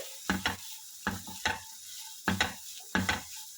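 Fried onions and vegetables are stirred in a hot pan while making veg spring rolls. A quiet sizzle runs underneath as a spatula makes repeated, rhythmic scraping and tossing strokes, with no talking.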